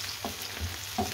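Shallots frying in a pan, a steady soft sizzle with a couple of faint pops and stirring clinks close by.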